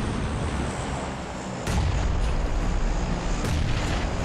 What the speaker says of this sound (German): Hier kommt eine Granate.